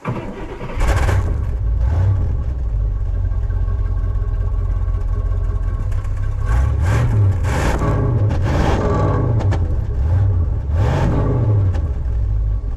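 A 1968 Cadillac Eldorado that sat unused for over 20 years drives along. Its engine drones loud and close throughout, rising and falling as it revs up and eases off.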